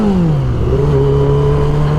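A Yamaha R6 600cc sport motorcycle engine revs loud and close while being ridden, its pitch dipping and then holding a steady, strained whine over rushing road noise.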